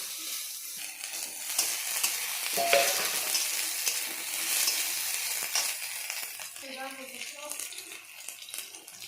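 Chickpeas, cumin and kidney beans frying in a pan, a steady soft sizzle with stirring scrapes throughout while people talk over it.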